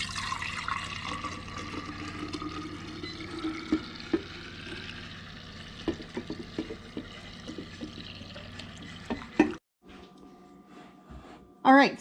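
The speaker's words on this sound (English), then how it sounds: "I'm going to pour into another jar because this is my kombucha." Kombucha poured from one jar into another while brewing at home, a steady liquid trickle running through most of the pass with small clinks and splashes, then a short break and a final splash; a voice talks over parts of it.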